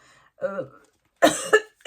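Two or three short, sharp coughs close by, separated by brief pauses of silence.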